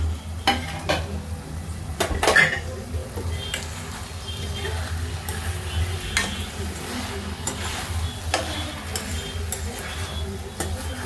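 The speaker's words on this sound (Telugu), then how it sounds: "సరే అలా కలిపేసుకున్నాం." Potato and tomato curry with onions being stirred in a pan, a series of scraping, clinking strokes of a utensil against the metal over a soft sizzle of oil, close, with a few quiet spoken words.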